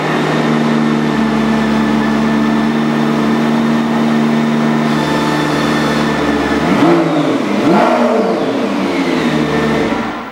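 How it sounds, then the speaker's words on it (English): A McLaren sports car's engine hums steadily, then rises in pitch with whining electric-motor surges as it accelerates, loud and close, with no talking. "Can you hear the electric motor again?"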